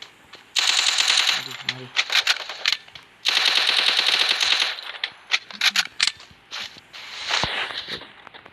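Rapid automatic gunfire rattles in a video game, coming in loud sustained bursts broken by short gaps and single shots, with faint talk underneath.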